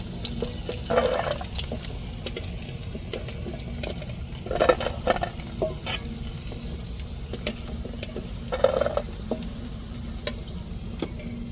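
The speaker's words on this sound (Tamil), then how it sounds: "இப்படியே எல்லா சிக்கனமும் கொஞ்சம் கொஞ்சமாக எடுத்து அப்படியே போட்டு பொரித்து எடுத்துருவோம்" Chicken pieces deep fry in oil with a steady bubbling sizzle, broken by a few louder bursts and crackles as pieces are moved or added, with a low hum underneath.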